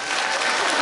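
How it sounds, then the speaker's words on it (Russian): An audience claps together at a Maslenitsa festival celebration in Shymkent, a short, dense burst of applause that holds steady and loud throughout. "Аплодисменты!"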